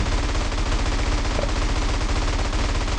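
Rapid, continuous gunfire from the video game GTA San Andreas, a dense loud rattle of shots filling the whole stretch with no pauses or voices.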